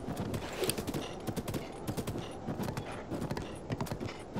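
Horse hooves clip-clop in a steady, rapid rhythm in the video game The Legend of Zelda: Breath of the Wild, loud and continuous throughout with no talking.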